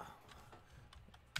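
Faint, sparse keystrokes on a computer keyboard while typing a file transfer command, a few soft taps ending in one sharper, louder key press.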